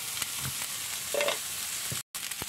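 Bell pepper and basmati rice sauté in a hot pan, giving a steady faint sizzle with small stirring scrapes and one brief cutout, no voices.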